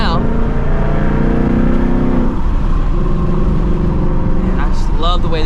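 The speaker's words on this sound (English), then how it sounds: "I just love the way this car sounds with just literally the H-pipe and the active exhaust" A 2024 Ford Mustang GT with an H-pipe and active exhaust revs loudly and close, its engine note rising and falling in steady pulses, with a voice briefly talking over it near the end.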